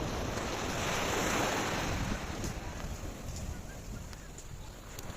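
Sea waves washing onto a beach, a continuous broad surf roar with wind buffeting the microphone, fairly loud and steady, with faint voices in the background.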